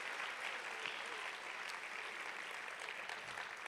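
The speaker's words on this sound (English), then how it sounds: "Let's give them all a big round of applause." Continuous crowd applause fills the room at a seminar with a body language expert, an even, fairly soft patter of many hands heard from some distance, with no pauses.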